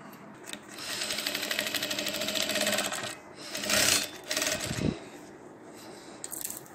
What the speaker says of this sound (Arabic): لازم نخيط الدوران بتاع الجيب